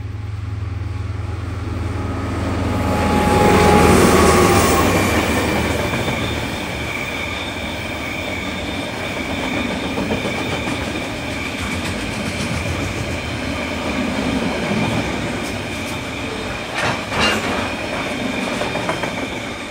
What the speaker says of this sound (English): I caught DL 9711 leading train 491 from Kinleith to Mount Maunganui